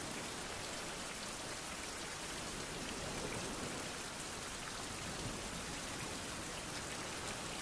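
Rain falls steadily in the video game Fountain of Youth, a dense, even hiss of drops on surfaces with no break or other sounds over the whole stretch.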